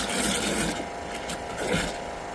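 Stirring car wash soap mixture in a bucket before washing a 2016 Mercedes-Benz AMG E63s, a continuous sloshing, rubbing swirl that rises and falls in waves, fairly close and steady with no talking.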